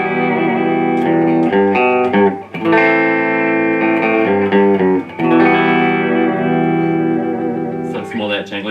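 Electric guitar with a Fender Jazzmaster pickup plays a bright, jangly surf tone with reverb and effects, loud chords and notes ringing continuously with brief pauses, no talking.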